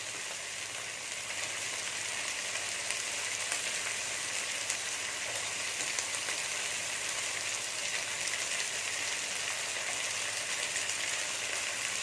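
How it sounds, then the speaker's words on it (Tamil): Steady, even sizzling fills the whole stretch as turkey berries (sundaikai) fry in a pan, a continuous hiss with no break and no voices. "கொஞ்சம் நேரம் கிளறி விட்டு ஒரு 2 நிமிஷம் வதங்கினா போதும்"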